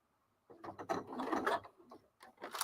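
A sewing machine starts a stitch on a sewing project, with short mechanical whirring runs and clicks close by, a brief pause, then another quick burst.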